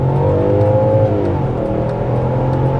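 A BMW X5 E53 4.6iS V8 SUV accelerates hard during a 0-62 mph run, the engine note climbing steadily toward its redline, dropping briefly at a gear change, then rising again, loud and close from inside the cabin.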